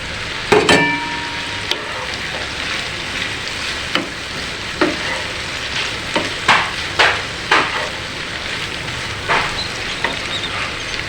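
Fried shrimp with cumin paste and slit green chillies sizzling steadily in a hot pan, with scattered sharp clinks and scrapes of a spatula stirring through the whole stretch.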